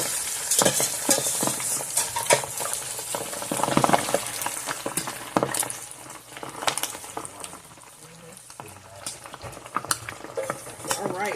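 Steady crackling sizzle of pork frying in hot oil, with occasional clinks and stirring noises, continuous and close.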